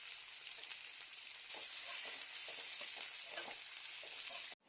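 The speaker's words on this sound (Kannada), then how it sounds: "ಈರುಳ್ಳಿಯನ್ನು ಪೂರ್ತಿಯಾಗಿ ಕಂದು ಬಣ್ಣ ಬರೋವರೆಗೂ ಹುರಿದುಕೊಳ್ಬೇಕಾಗತ್ತೆ" Onions fried with a quarter teaspoon of cumin seeds in a pan until browning: a continuous dense sizzle, close and fairly loud, with light stirring scrapes and no voices.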